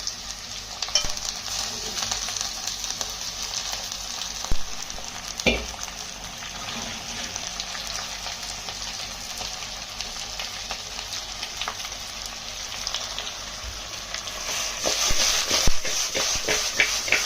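Bone-in chicken pieces frying and being stirred in a pan, a steady close sizzle with scraping stir strokes and occasional clinks, no talk.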